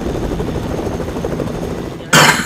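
A Fortnite helicopter whirs with a steady rotor chop at moderate distance, then swells abruptly into a loud, close rush of noise near the end.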